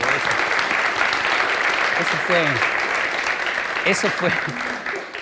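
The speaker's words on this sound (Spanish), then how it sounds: "un aplauso, por favor." A lecture audience breaks into applause, broad steady clapping from many people with a few voices and cheers rising briefly over it, tapering slightly at the close.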